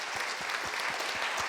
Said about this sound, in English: I would like to applaud them for a great organization